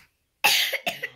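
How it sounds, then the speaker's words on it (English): A child gives two quick coughs, close and fairly loud, after a short silence. "what do you have to do when you're coughing?"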